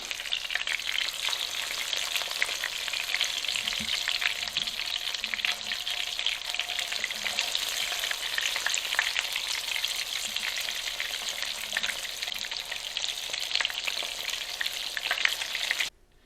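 Breaded schnitzels fry steadily in a pan, a dense, even crackle and sizzle running close and loud for the whole stretch before cutting off abruptly at the end, with no voices.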